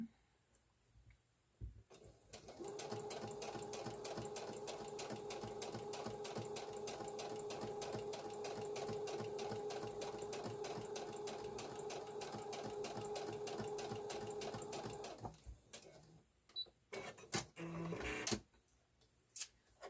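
A sewing machine quilts a blue stand mixer cover in one long, steady run of rapid, even stitching, close and alone, then stops with a few clicks and handling sounds.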